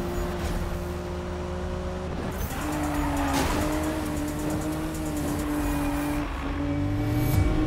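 Turbocharged car accelerating in Need for Speed (2015), engine drone climbing through gears with a brief tire scrub midway, steady and close throughout, no voices.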